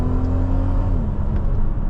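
Inside a 2023 Mercedes-Benz GLC 300 4MATIC Coupe while driving in Sport Plus, a steady low engine drone and road rumble hold throughout, the engine tone dipping slightly in pitch partway through.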